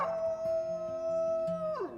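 Wolf dogs at a sanctuary in Pilot Hill, California give a long sustained howl, with other voices layering lower howls beneath before it slides down at the end; no talking.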